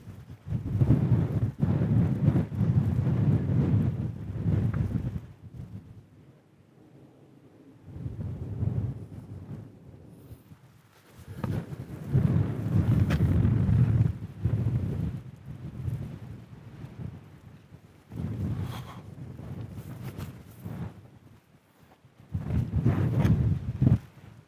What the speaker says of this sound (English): Bit windy, mind.